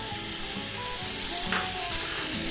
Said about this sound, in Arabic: دلوقتي هننزل الطماطم وننزل الفلفل الحار